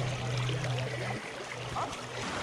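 Water flows and rushes steadily in a creek on a British Columbia mountain bike trail, a dense, continuous close burble with a low hum underneath.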